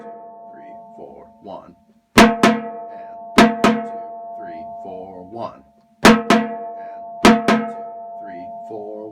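Deep, booming strikes from the largest fifth bass drum in a high school marching drumline land in a few accented hits and pairs, while a voice counts the beats aloud between and over them.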